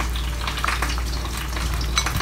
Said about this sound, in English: Shallow fry them for 10 minutes on both sides, or medium to low heat